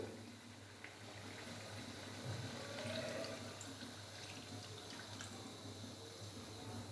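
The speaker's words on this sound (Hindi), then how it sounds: "अभी मैं इसके अंदर डालूंगा कॉर्नफ्लोर और सोया सॉस का जो पानी अभी हमने" Cornflour and soy sauce slurry poured into a pan of black pepper dry chicken, a steady soft liquid trickle over a constant low hum, with no talking.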